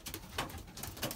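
Belgian racing pigeons at the loft give a soft, low cooing in a couple of faint pulses, heard briefly and quietly on their own.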